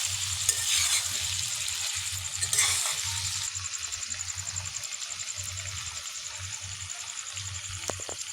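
Mutton curry sizzles steadily in a pan as a spice mix goes in, with a regular, rhythmic scrape of stirring running under the hiss throughout.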